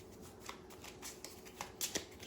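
Deck of cards shuffled by hand for the London Dread board game, a series of quick riffling bursts and soft slaps, close and fairly quiet, with no talking.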